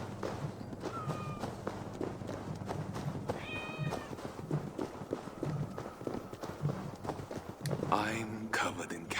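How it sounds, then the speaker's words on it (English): Cats in Assassin's Creed Valhalla give several soft, short meows amid game ambience, footsteps and light movement sounds, with a burst of louder activity near the end. "My cats! Come here, my darlings."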